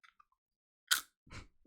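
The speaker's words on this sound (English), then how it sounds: "Wait, guys wanna hear a crunch?" A potato chip being bitten into, one sharp crunch followed by a softer chewing crunch, close and isolated against silence.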